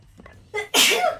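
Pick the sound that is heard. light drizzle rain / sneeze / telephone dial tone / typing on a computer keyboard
sneeze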